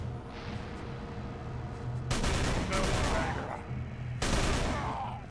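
Tommy gun fire in the Call of Cthulhu: Dark Corners of the Earth game, two loud sustained automatic bursts, each lasting over a second, separated by a short pause, over a low droning game ambience.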